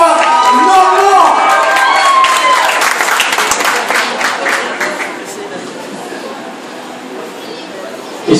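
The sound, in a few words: audience applause at a Miss Prestige Réunion pageant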